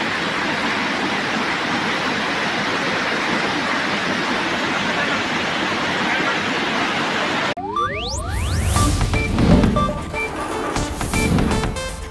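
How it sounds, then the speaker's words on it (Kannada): Kallathagiri waterfall in Belagavi pouring hard during heavy rain, a dense, steady roar of rushing water for most of the stretch before it cuts abruptly to a different, louder mix of sounds. "ಮಳೆ ಜೋರಾಗಿ ಫಾಲ್ಸ್ ಧುಮ್ಮಿಕ್ಕಿ ಹರಿತಾ ಇದೆ"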